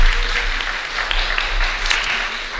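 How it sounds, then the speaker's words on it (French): A seated audience at a French-language religious lecture applauds warmly, continuous dense clapping at steady volume with a low hum running beneath it. "Je pense qu'on peut l'applaudir bien fort"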